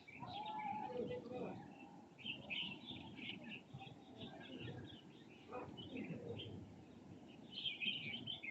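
A white bird calls in pine woods with scattered chirps and cooing notes, faint and somewhat distant, while someone talks quietly over the calls.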